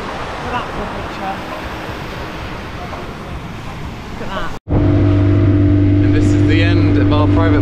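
A motorboat engine hums steadily with wind and water noise off Gili Air after sunset, then the sound cuts and a louder, droning engine tone continues.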